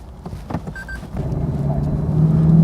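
A Lexus LC500 coupe with a 5.0-litre V8 and ten-speed gearbox, set to Sport Plus mode, accelerating on a racing circuit: a few short clicks and taps, then an engine note that builds steadily in pitch and loudness.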